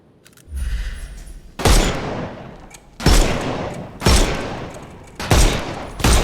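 Gunshots in the detective game Sherlock Holmes: Chapter One, five loud, heavy single shots spaced about a second or more apart, each followed by a long booming decay.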